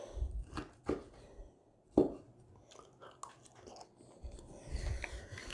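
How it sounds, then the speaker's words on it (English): Bites into a seared steak give soft, close chewing and crunching sounds in a few irregular bursts, separated by quiet pauses, with no talking. "Let's take a bite of it."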